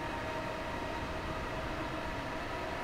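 A Class 313 electric train running in the Train Simulator video game, giving a steady, continuous rolling rumble of the carriages in motion with no talking.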